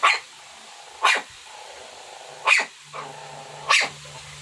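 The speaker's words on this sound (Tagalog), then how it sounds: "Ingay ng aso namin, no?" A dog barks four times with pauses between them, fairly close against an otherwise quiet background.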